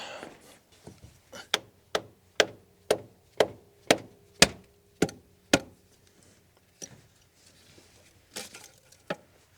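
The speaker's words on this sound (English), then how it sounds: "I'm gonna grab a hammer and just kind of tap up on that" A hammer taps a GM V8 engine part during lifter replacement and cylinder head removal in a steady run of about a dozen sharp, close strikes, then a few scattered, softer taps after a pause.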